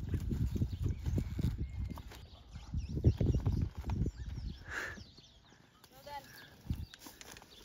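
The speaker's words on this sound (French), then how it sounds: "Maintenant on donne à manger aux chevaux." Horses at a rescue refuge in Bolivia shuffle and clop around at feeding time, hooves thudding close by amid rustling movement, while people talk over much of it.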